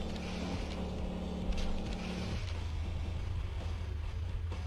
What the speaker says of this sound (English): these different cars have different sounds for their engines,